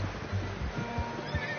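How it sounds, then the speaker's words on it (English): A horse in the video game Red Dead Redemption 2 gives a short neigh with snorting and hoof thuds, close and moderately loud, amid game ambience. "How's that new horse?"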